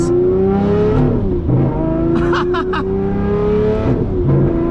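Lamborghini Murcielago SV V12 under way, very loud and close, engine note climbing through gears with sharp shifts and crackling pops from the exhaust, while a voice speaks faintly underneath.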